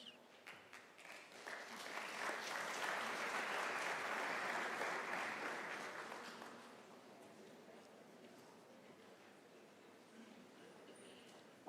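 A crowd at a university autumn graduation ceremony applauds graduates. Scattered claps build into a full, sustained round that holds for several seconds, then thins and fades into quieter room noise.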